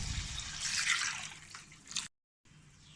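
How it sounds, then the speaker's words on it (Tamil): Hot chicken stock being poured into honey chicken gravy in a pan, a soft rushing splash and trickle that fades out after about two seconds, followed by near silence. "சிக்கன் அரை வேக்காடாக வேக வச்ச தண்ணியை அதை எடுத்து இதில் ஆட் பண்ணிக்கலாம்"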